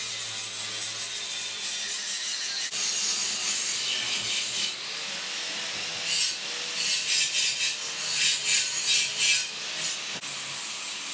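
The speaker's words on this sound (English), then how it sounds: "I'm going to clean the weld off of that" Abrasive scraping and grinding on square steel tubing as a weld is cleaned off, a harsh rasping that rises and falls in strokes with brief pauses, close and fairly loud.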